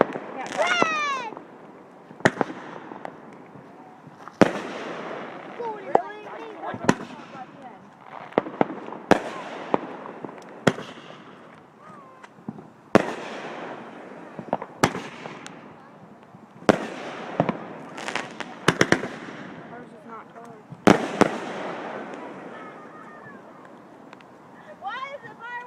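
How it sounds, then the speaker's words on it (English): Red and green fireworks burst all around, with sharp cracks and pops scattered unevenly through the clip, some near and loud, others distant, while excited voices call out over them. "Why is the fireworks going off everywhere in the country"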